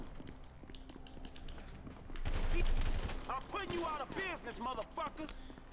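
Bursts of carbine gunfire in the video game GTA 5, a dense volley of rapid shots that swells midway, with someone talking underneath and around the shooting.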